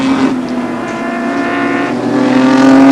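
A 1985 BMW 635 touring car, number 62, races toward the lake corner at Amaroo, its engine loud and close as it climbs through the gears with a steady high drone and rising pitch.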